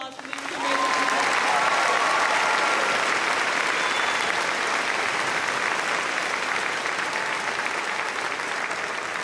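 A high school graduation audience claps in sustained, dense applause that swells quickly and holds steady for several seconds, loud and full with a faint voice briefly at the start.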